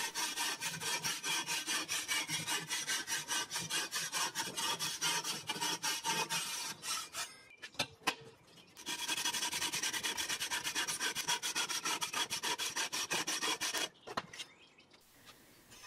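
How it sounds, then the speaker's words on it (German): Harsh, rapid back-and-forth sawing through a soft Ytong aerated concrete block, long rhythmic runs of strokes broken by two brief pauses, close and loud. "Was nicht zur Form gehört, wird auf beiden Seiten schraffiert und in ganzer Breite grob abgesägt."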